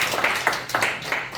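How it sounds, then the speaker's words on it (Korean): A few scattered claps from a small audience at a local village development briefing meeting, short and fairly close, lasting just over a second. "박수 한번 쳐줘요"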